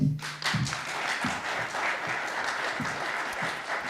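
Audience applause at the Armenia-Azerbaijan peace document signing, a fairly quiet, even patter of clapping with a few brief low voice sounds under it near the start.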